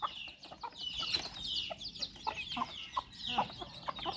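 A mother hen with young chicks clucks repeatedly in short, close bursts, with high chirping around her in a farmyard.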